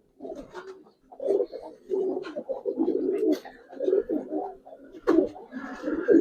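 Giribaz pigeons coo in a near, continuous series of rolling low calls, overlapping one another with brief pauses between bursts.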